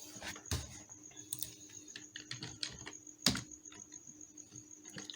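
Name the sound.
typing a git command on a computer keyboard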